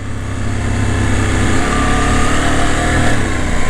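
KTM 790 Adventure motorcycle on Isle of Man mountain roads, its engine blipping on a downshift: a loud, steady mid-pitched roar with a slight rise in revs, close and continuous for a few seconds.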